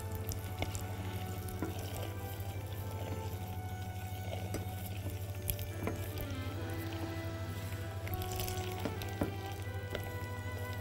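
Brown sugar caramelizes in a pan for a glaze, with a soft, steady sizzle and scattered faint crackles and pops over a constant low hum.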